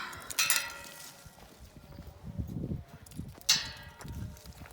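Hooves clip-clop on a hard surface as horses walk by, with louder bursts of noise and occasional thuds as they pass close.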